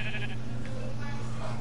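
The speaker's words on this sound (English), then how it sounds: "It's a black sheep." A black sheep in Minecraft gives a short bleat near the start, over a steady low game hum, then quiet background.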